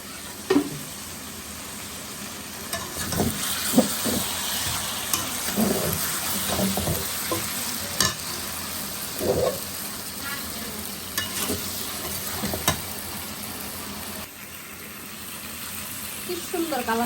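Chicken with ground spice paste sizzles and fries in a pan while a spoon stirs and scrapes it in irregular strokes; the sizzle is steady and close, with faint rain and occasional voice sounds behind.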